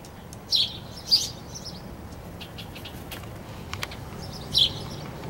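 Birds call in the morning, with crows and small birds nearby: three short, bright chirps spaced a few seconds apart stand out over a steady, quiet outdoor background.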